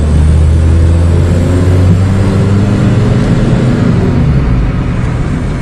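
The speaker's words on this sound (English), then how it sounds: "Turbo sounds nice." A loud car engine drones steadily and close, rising slightly as it accelerates, with a low rumble throughout and no talking.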